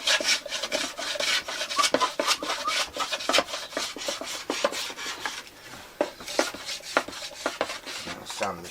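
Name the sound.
sanding wood of arch top jazz guitar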